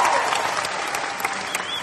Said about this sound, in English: Again, they'll applaud, and then you can comment if you'd like